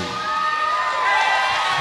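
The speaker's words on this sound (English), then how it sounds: "Y'all give a round of applause to this band right now." A concert crowd at a live hip-hop show in Charleston cheers and whoops for the band, a dense, sustained roar of shouting voices that swells slightly toward the end.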